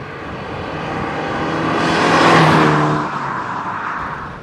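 An Alfa Romeo Alfasud Sprint is driven hard through a corner, its engine revving and swelling into a loud, close pass before the note falls away, with tyre and wind noise beneath and no talking.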